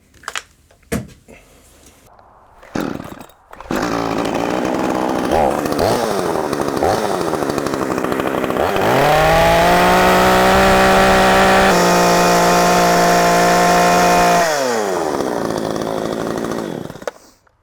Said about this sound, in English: How about a chainsaw?